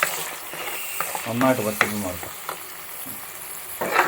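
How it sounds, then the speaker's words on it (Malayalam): Onion, garlic, chilli and ginger paste fries in a pan on a medium flame for a goat liver curry, giving a steady close sizzle with scraping stirs and a few brief, faint bits of voice. "നന്നായിട്ട് ഇളക്കി മീഡിയം ഫ്ലെയിമിൽ വെക്കാവുള്ളൂ"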